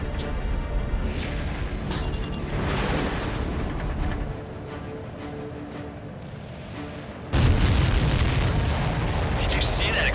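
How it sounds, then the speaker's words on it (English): Heavy rumbling blasts and continuous roaring noise in the Ace Combat 7 flight combat game, loud and close, dropping briefly to a quieter drone before a renewed burst of booming explosion noise. "Did you see that explosion?"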